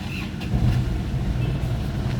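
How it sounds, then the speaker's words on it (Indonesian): A 2006 Isuzu Panther LS engine idling just after starting, a low steady rumble with a slight surge early on, close and continuous without talk. "Yuk kita nyalakan untuk mesinnya."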